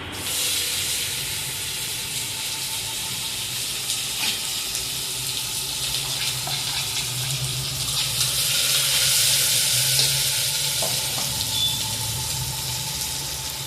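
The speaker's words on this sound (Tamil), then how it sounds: "அடுத்து வெங்காயத்தை போட்டுக்கலாம்." Onions hit a hot pan for mutton biryani and give off a steady, close sizzling hiss. It swells a little toward the middle and runs on without any voices.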